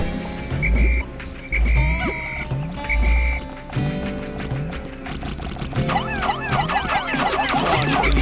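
Frog enemy croaking amid the Pikmin video game soundtrack, its calls mixed into steady game music with repeated low thumps and bright chirping effects throughout.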